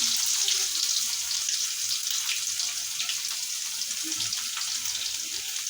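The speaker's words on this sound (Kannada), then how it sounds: "ಸಾಸಿವೆ ಜೀರಿಗೆ ಚಟಪಟ ಅಂತ ಅಂದ ಮೇಲೆ ನಾನು ಬೆಳ್ಳುಳ್ಳಿ ಹಾಕೊಳತ್ತೀನಿ ನೋಡ್ರಿ" Mustard seeds, cumin and garlic fry in hot oil for North Karnataka home cooking, giving a steady, dense crackling sizzle that runs unbroken at an even level throughout, with no voices.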